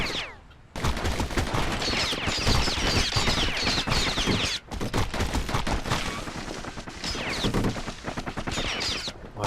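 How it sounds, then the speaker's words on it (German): Rapid gunfire from enemies in the action game Bastion crackles in dense bursts and volleys throughout, loud and close, with brief gaps between the barrages. "Hört auf, mich zu ballern."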